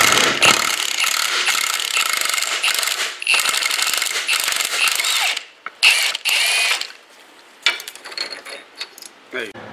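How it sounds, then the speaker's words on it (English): A ratchet with a deep socket clicks in quick bursts as it backs out a steering rack bolt on a C6 Corvette, the close metallic clatter coming in several runs separated by brief pauses. "we're gonna use a socket, a deep socket, to get the other side off"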